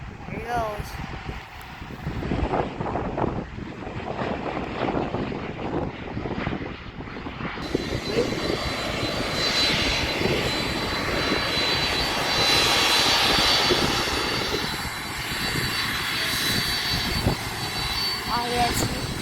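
A UPS cargo jet at Honolulu airport roars loudly nearby, its engine noise building and swelling with wind buffeting the microphone while people talk over it.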